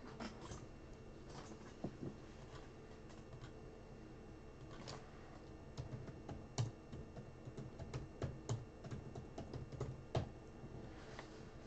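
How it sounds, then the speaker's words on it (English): Quiet computer keyboard typing in irregular bursts of soft, close clicks and taps, with a few louder keystrokes standing out near the end. "that's how I'm going to type it in"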